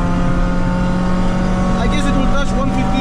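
A heavily modified 2006 Toyota Corolla pulls hard through its gears, its engine droning loud and steady from inside the car with a rising whine, while voices talk over it.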